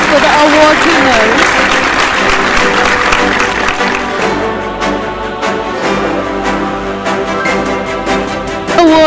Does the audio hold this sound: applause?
yes